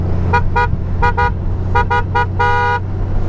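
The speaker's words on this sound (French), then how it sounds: "Vous avez dessus un klaxon de bagnole, mais un truc de fou." A loud car-style horn on a 2018 Honda Goldwing 1800 motorcycle honks in short pairs and triplets, ending with one longer blast, over a steady engine rumble.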